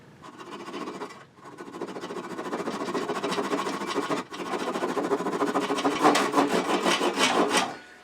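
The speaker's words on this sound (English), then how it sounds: "I'm grabbing a saw that's a little bit more aggressive" Aggressive hand saw cutting through wood, a close rhythmic rasp of repeated push-pull strokes with two short pauses, speeding up toward the end.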